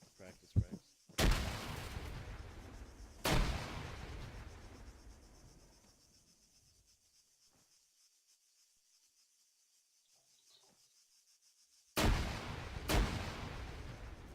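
Frag grenade explosions in ARMA 3 during training: three loud, broadband blasts, each trailing off in a long rumbling decay, with a quieter stretch in between and some faint voices early on.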